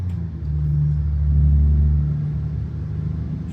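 A Cat C16 diesel truck engine of about 675 horsepower, run through a 10-speed gearbox in American Truck Simulator, hauling a light load. It rumbles steady and loud as it accelerates, rising to a peak and then settling, with no voices.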